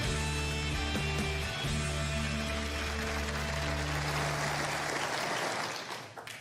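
Studio audience applause on a daytime talk show, a dense steady wash of clapping blended with sustained music, both loud throughout before fading out at the very end.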